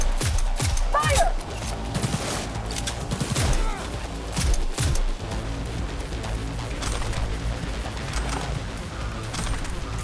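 Bursts of gunfire in the video game Cyberpunk 2077, loud rapid volleys with crashing impacts, mixed under shouted voices and game noise.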